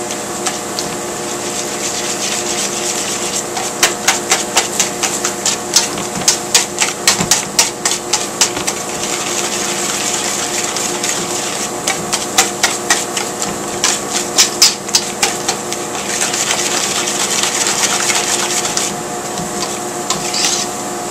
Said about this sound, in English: And just whisk this all together.